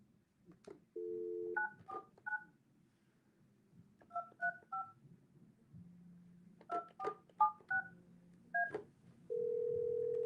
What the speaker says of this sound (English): I'm calling Gary on the phone.